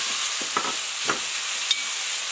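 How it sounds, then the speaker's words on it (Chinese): Ham, shiitake mushrooms, wood ear fungus and cabbage stir-fry in a wok, a steady close sizzle broken by a few sharp scraping stirs of the spatula. "这样把它炒一下，放香菇，放木耳，再放入白菜"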